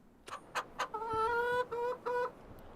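Chickens in the farming game Farming Simulator 25 cluck, a few sharp clucks followed by a drawn-out, rising cackle in several pulses, fairly close and clear over a quiet background.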